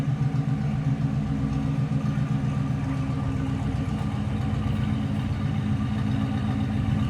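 A 1941 Cadillac Series 62 four-passenger coupe idles with its complete front-to-rear exhaust, giving a steady, smooth low rumble that holds evenly and close by without any voices.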